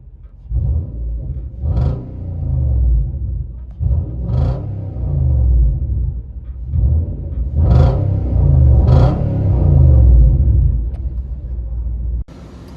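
A Nissan Titan 5.6L V8 with Flowmaster Super 10 side pipes rumbles from inside the cab, a deep steady drone that swells through several revving surges and settles between them, loud and continuous without talk.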